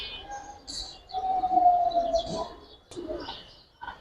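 Pigeons cooing nearby among fancy Giribaz and bagha breeds, a few soft, throaty coos and murmurs rising and falling over a quiet background, with brief chirpy sounds scattered between them.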